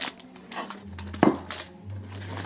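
Ceramic shards of a broken mug clink and rattle inside a shipping box as it is shaken during unboxing, a brief burst of close, light clattering with one sharper knock.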